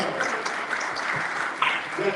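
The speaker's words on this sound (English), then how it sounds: "Can we do a round of applause?" Audience clapping at a community reinvestment fund event, a moderate steady patter of many hands with a few louder claps and some voices mixed in beneath.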